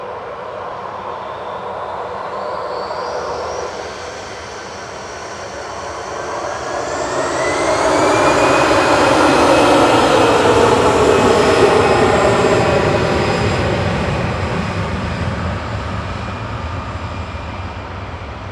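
An airliner at Manchester Airport roars past with a long jet engine swell that builds to a loud peak and slowly fades, a rising whine threaded through the broad rumble.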